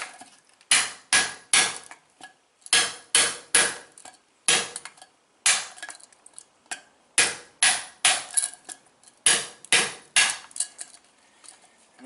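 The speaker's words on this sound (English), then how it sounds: "just take an old hammer, putting it down in there and go side to side" An old hammer knocks against brake drums on a 1978 Chevy square body K10 truck, giving loud, close, ringing metallic blows in quick irregular clusters with short pauses, and no talking.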